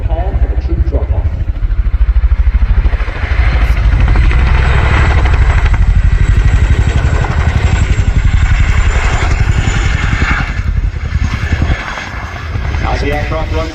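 A Chinook twin-rotor helicopter flies a display at RIAT 2025, RAF Fairford, with loud, close rotor thumping and engine roar throughout and a commentator talking over it.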